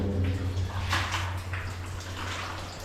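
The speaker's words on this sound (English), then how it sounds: "A little dripping from the top" Water drips and trickles steadily from a cave roof in an echoing space on Mount Te Aroha, with a constant low hum underneath and no voices.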